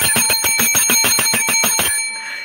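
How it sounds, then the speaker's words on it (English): Hand bell rung rapidly and loudly, about a dozen bright metallic strikes in quick even succession, then ringing out and fading. "It's time for your girl to ring that bell."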